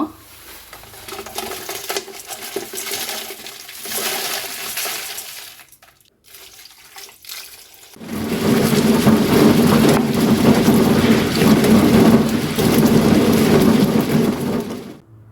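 A mixer grinder grinds cooled spice masala for Mangalore-style mackerel pulimunchi, kicking in midway with a loud, steady roaring whir that follows a quieter stretch of rustling, with no talking.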